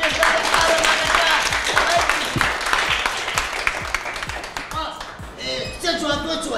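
A school crowd applauds an 8-year-old girl after she sings, dense rapid clapping that holds loud and steady before thinning out, with voices at the end.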